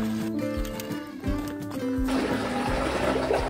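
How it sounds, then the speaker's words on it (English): Water running into a horse trough on a farm on a winter morning, a steady splashing flow that grows fuller and louder in the second half, with a low mechanical hum and tonal noise underneath. "Okay, the next step is to fill up the horses with water."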